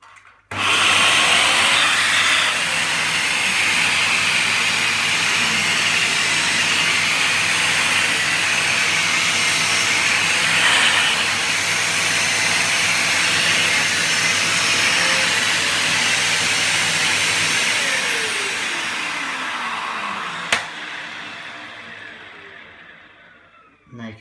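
Dyson Cinetic Big Ball CY22 Animal cylinder vacuum cleaner running with its turbine tool, a loud, steady whirring whine held for about twenty seconds, then winding down as the motor cuts off.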